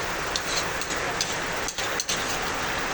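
Steady rain falling outdoors in Pandi, Bulacan, a dense even hiss of drops that holds throughout, with a couple of brief dips and no talking.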